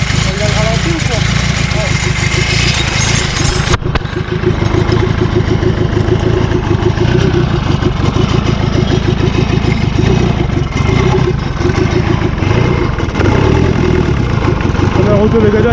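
A buggy engine with a broken diesel return line, restarted after freezing, idles steadily and loudly with a throbbing low rumble throughout, while voices talk over it.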